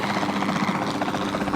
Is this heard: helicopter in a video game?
yes